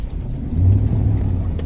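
Chevrolet Tahoe police pursuit vehicle driving through a field, a loud low engine rumble that swells midway as it accelerates over rough ground.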